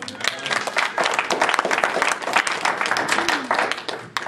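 A church congregation claps hands together in a dense, steady wash of applause that stays loud and close throughout, with voices mixed in underneath.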